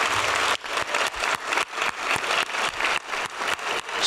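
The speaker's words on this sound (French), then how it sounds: "j'aimerais qu'on l'applaudisse fortement" Audience applause at a ballet gala, steady clapping with rhythmic surges, loud and close, with no talk over it.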